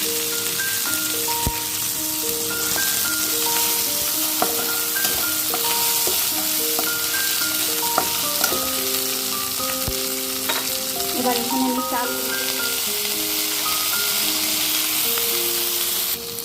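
Whole cumin seeds frying in oil for a fish-head ghonto give a steady, soft sizzle throughout, with a gentle melodic tune playing over it.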